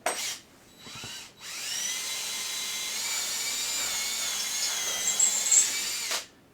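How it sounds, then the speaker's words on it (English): A power drill bores into a scrap wood backer board: two short bursts, then one long sustained whine that shifts pitch as the bit bites, close and loud, and no one speaks. "I'm just drilling right into a backer board, just a scrap piece of wood."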